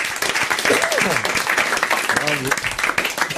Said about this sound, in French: je crois qu'on peut applaudir le journaliste Didier Arnaud